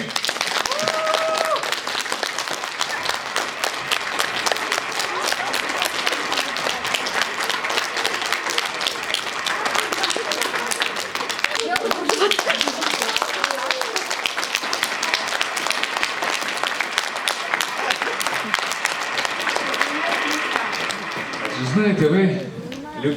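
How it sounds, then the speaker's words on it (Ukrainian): A festive holiday celebration audience gives warm, continuous applause for the performers' debut, a dense and steady roar of clapping that carries on for over twenty seconds before a voice starts speaking at the end. "підтримайте дебют наших артистів гарячими оплесками"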